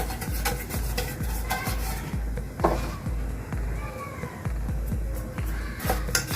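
Flour-dusted cake tin being tapped around by hand, a run of about a dozen regular dull knocks with light metallic ring, close and fairly loud over a faint background hiss.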